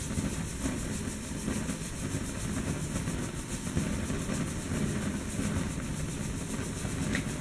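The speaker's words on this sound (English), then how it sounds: "you can increase the speed by increasing the gas that is output, which means more steam will be built up and essentially more force" A Hero's engine spins on steam raised from water heated by a gas flame, giving a steady hissing, rushing whir that stays even and close with no breaks.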